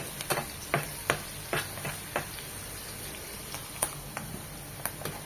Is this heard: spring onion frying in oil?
yes